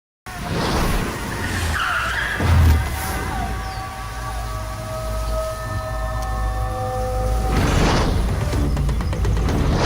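A car pulls in with a loud, drawn-out tyre skid in a comedy movie scene, the squeal sliding and wavering over engine roar, then easing into a steady rumble as it comes to rest.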